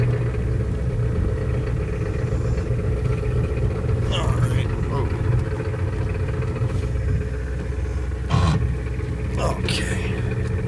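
A 1993 Ford F-250 pickup engine runs steadily just after starting on a newly installed battery, a constant low rumble close by with a few clicks and knocks and a voice talking over it.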